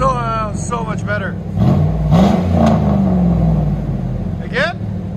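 A 2004 GMC Sierra with a 4.8L V8 and true dual straight-pipe exhaust revs in a few rising bursts, loud and nearby, under someone talking over the engine.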